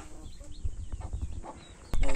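Farmyard chickens and chicks clucking and cheeping nearby while the chicks peck at feed, brief calls scattered over a busy background, ending in a louder burst of sound.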